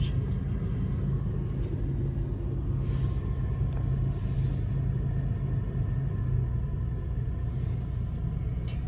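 A Nissan Xterra engine idles after an EVAP purge valve replacement, giving a steady, even low rumble that stays close and unbroken throughout.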